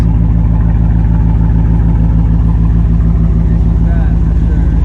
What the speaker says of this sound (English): you can't beat the sound of the Hemi